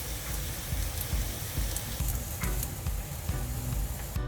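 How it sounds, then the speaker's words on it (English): Tempeh fries in hot olive oil in a pan, a steady close crackling sizzle with small pops and spatters throughout, no voices. "You're going to start adding your tempeh to your hot olive oil."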